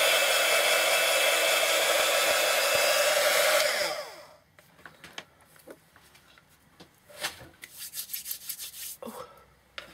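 A hair dryer blows steadily and loudly over a paper napkin decoupage piece for about four seconds, then shuts off, leaving faint rustling and small handling sounds.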